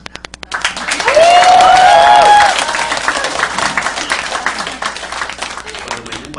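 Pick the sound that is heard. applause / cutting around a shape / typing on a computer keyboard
applause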